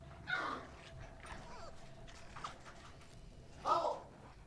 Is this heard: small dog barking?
yes